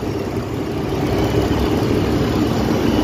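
Freshly rebuilt car engine idling just after starting, formerly misfiring: a steady, loud low rumble with constant broadband drone and no pauses, running alone without voices.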